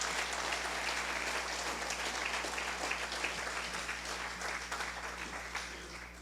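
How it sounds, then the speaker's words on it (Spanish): Church congregation giving a strong round of applause for its workers, full and sustained clapping from a large group, with a steady low hum running beneath it. "¿Qué tal si les damos un fuerte aplauso?"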